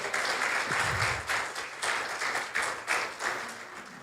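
A church congregation applauds in praise of God, giving sustained clapping that swells and pulses for a few seconds at moderate volume, with no voices over it.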